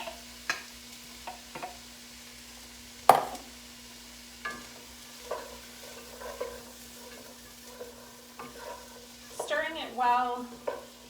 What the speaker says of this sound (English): I'm going to use a spoon to stir it around and let that cook for between 5 and 7 minutes, or until the onion is translucent